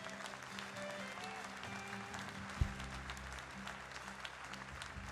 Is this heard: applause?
yes